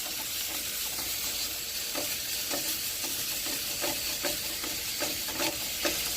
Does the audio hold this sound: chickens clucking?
no